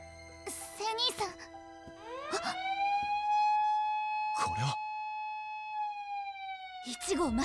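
An anime attack-warning alarm siren from Sakura Wars, a long rising and sustained electronic wail with harmonic overtones that holds steady for several seconds, with short bursts of voices speaking before and after it.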